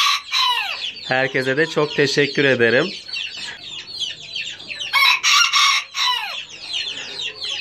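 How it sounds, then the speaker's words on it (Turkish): A Serama rooster in a coop gives loud, close clucks and a strained crow-like call, with more clucking and squawks following while someone speaks briefly over it. "Kümesime biliyorsunuz mükemmel bir serama horoz almıştım"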